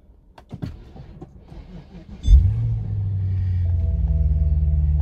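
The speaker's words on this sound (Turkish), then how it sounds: "V6'mızı bir çalıştıralım bakalım." A V6 engine in a BMW Alpina with a weak battery cranks briefly after a few clicks and knocks, then catches and settles into a loud, steady low idle rumble close by.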